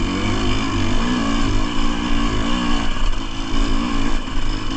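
A dirt bike on a Pacific Northwest singletrack trail, its engine droning steadily close up and loud with small shifts in revs, and no voices.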